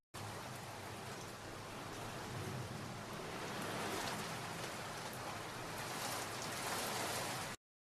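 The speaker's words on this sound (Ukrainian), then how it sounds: "Так, звуки дощу." Steady rain falls continuously, a dense hissing patter on surfaces with no voices, even in loudness throughout.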